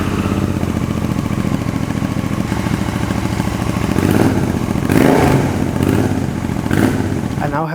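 A motorcycle engine fitted with Canon slip-on exhausts rumbles steadily and close, swelling with a few throttle blips toward the end.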